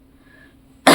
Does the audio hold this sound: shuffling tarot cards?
no